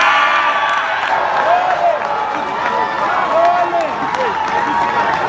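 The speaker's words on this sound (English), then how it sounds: "A round of applause, please." Crowd at a presidential campaign council inauguration for Atiku Abubakar breaks into sustained applause and cheering, a dense roar of clapping with scattered whoops and voices that stays loud and steady throughout.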